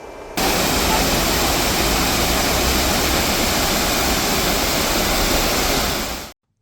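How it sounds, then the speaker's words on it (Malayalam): The Cheeyappara waterfall beside the Kochi–Dhanushkodi national highway in the Neriyamangalam forest, swollen with monsoon water and tumbling down in tiers, gives a loud, steady broadband roar that starts abruptly and cuts off just before the end. "ചീയപ്പാറ വെള്ളച്ചാട്ടം ജലസമൃദ്ധമായിരുന്നു"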